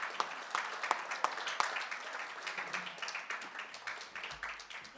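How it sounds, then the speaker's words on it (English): An audience at the Cape Racing and Cape Breeders awards ceremony claps in a soft, steady round of applause, with a few sharper individual claps standing out early before it gradually thins. "Ladies and gentlemen, a warm round of applause"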